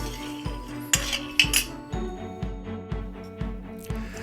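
Peanuts roasting in a pan are stirred with a metal utensil, giving a steady rhythm of close scraping clinks against the pan about twice a second, with no talking.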